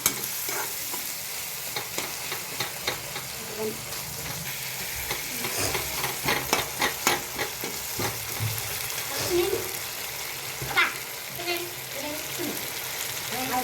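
Food frying in a pan with steady sizzling, broken by a run of brisk scraping stirs in the middle and occasional clinks, close up; a voice speaks at times underneath.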